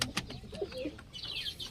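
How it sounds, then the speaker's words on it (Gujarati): Tumbler pigeons coo in a few soft, low, throaty notes close by, with faint chirps and rustling around them. "આ પલટી વાળો કબૂતરો છે."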